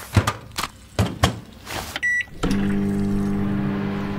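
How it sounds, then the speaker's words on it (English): Microwave oven starting up after a few thumps and a short beep, its steady electric hum running loud and alone for the last two seconds. "I found a microwave! Now at least we can make the emergency popcorn"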